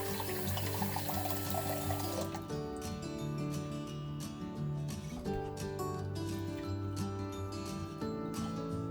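Water poured from a tap into a pot of carne guisada, a loud splashing rush that cuts off briefly and gives way to steady running and trickling.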